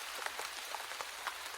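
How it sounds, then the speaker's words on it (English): Rain patters gently on outdoor pavement, a soft, steady hiss of many small drops with faint scattered ticks, constant and fairly quiet throughout. "It's rain pattering gently on the pavement outside."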